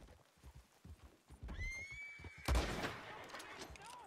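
A horse in a western bounty-mission video game, with clip-clopping hooves and a sharp whinny, then a burst of gunfire, while voices talk faintly underneath.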